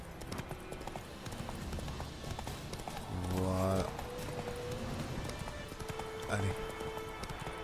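A horse gallops with steady, rapid hoofbeats in The Witcher 3, with a whinny partway through, under game sound and someone talking.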